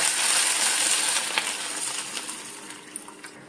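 Buttermilk blended in a mixer jar is poured into a pan off the heat, making a soft rushing splash that starts full and fades over a few seconds, with a few small clinks.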